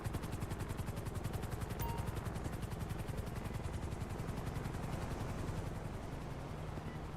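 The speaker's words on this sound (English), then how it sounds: "got the Grove Street helicopter in the air" Helicopter flying in a GTA roleplay game, with steady rapid rotor chop beating evenly for the whole stretch, fairly loud and close, with no talking over it.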